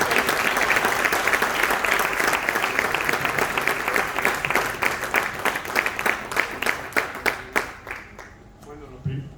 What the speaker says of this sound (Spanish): un aplauso para Jesús y adelante